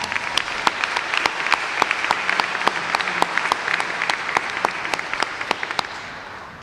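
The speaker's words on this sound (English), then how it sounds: "How about another round of applause for them?" Audience applause at a graduation ceremony for a funeral service institute, steady sustained clapping from a large crowd filling the hall, with sharp individual claps standing out, fading slightly at the end.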